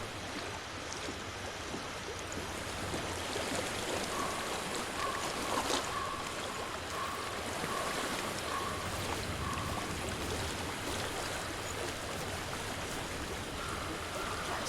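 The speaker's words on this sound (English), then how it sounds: "I hear water." Flowing stream water in the video game Hellblade: Senua's Sacrifice, a steady, even rush of broadband water noise that runs unbroken throughout, with no voices over it.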